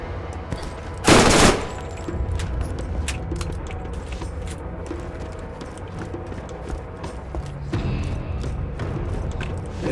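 SMG fire in the game Borderlands, rattling bursts of quick shots with one louder blast near the start, layered over busy game noise throughout.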